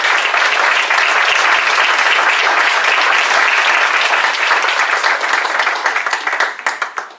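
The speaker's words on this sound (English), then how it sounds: "Let's have a big round of applause." Loud, dense audience applause at a Churchill Club leadership event in Silicon Valley, a steady wash of many hands clapping that holds strong and then thins and fades toward the end.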